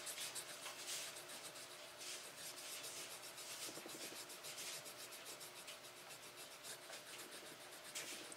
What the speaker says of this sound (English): rub the pins.